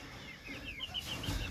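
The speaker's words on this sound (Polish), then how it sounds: "Już zaczynają piać powoli." Pekin bantam roosters give soft, faint early crowing calls in a short, quiet stretch with steady background noise.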